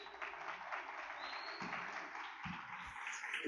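Classroom applause from nursing students for a fellow student at a lecture, a steady dense patter of many hands clapping throughout, with a few low thumps and faint voices underneath.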